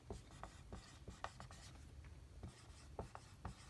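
A pen scratches across paper in short, irregular strokes, quiet and close, with brief pauses between words being written by hand.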